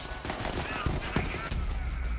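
A few quick pistol shots in Borderlands 3, short cracks in close succession, fairly faint under a busy game background.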